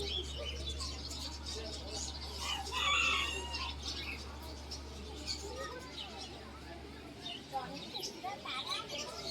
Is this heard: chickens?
yes